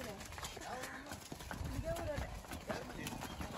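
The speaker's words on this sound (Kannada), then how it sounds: "ನೋಡಿ ಫ್ರೆಂಡ್ಸ್, ಎಮ್ಮೆ ಬರ್ತಾ ಇದಾವೆ ಕಂಟಿನ್ಯೂಸ್ ಆಗಿ" A line of buffaloes walks past in a village, their hooves clopping steadily and close under ongoing voices, with a few faint animal calls.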